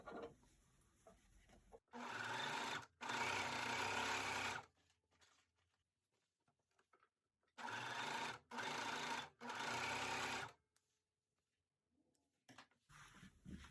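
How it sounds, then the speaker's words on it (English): A sewing machine or serger stitching the side seams of no-show underwear runs in several loud, steady bursts of a few seconds each, separated by quiet pauses and soft handling noises. "You can use your straight stitch machine with a stretch stitch setting, or just send it through your serger if you have one."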